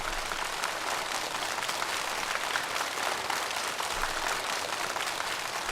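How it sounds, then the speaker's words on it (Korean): An audience at a national elementary school quiz contest in Pyongyang claps in congratulation of a winning student, a continuous even wash of applause holding steady throughout. "한번 축하의 박수를 보내줍시다."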